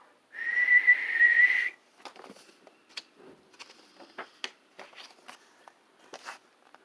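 A single sustained whistled tone, clear and fairly loud, lasting over a second, followed by quiet scattered tapping and shuffling noises.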